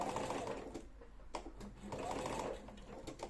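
A sewing machine topstitching a trouser fly, running in two close bursts of rapid whirring stitches with a short pause and a couple of clicks between, no talk.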